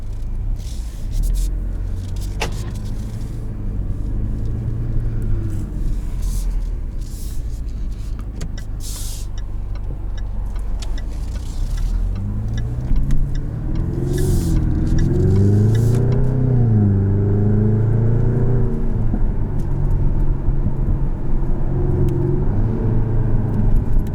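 A 2021 Jaguar F-Type P300 four-cylinder engine in sport mode idles, then revs up and down in several rising and falling swells, fairly close, with faint talk in the background.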